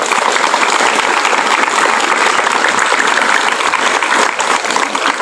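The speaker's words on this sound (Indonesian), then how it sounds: "Tepuk tangan untuk mereka semua" A school crowd applauds teachers at a National Teachers' Day ceremony, steady, loud, dense clapping held throughout with no break.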